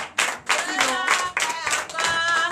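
A church congregation at a Sunday service in Benin claps hands in a lively, fairly steady rhythm, loud and close, with voices mixed in over the clapping.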